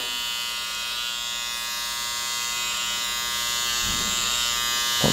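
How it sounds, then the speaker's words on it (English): Electric hair trimmers cutting a taper in a men's barbershop haircut; a continuous close, high buzzing hum that holds steady throughout, with brief rustling near the end and no talking. "I'm going to now use my, my trimmers to, to tidy and start to do this taper."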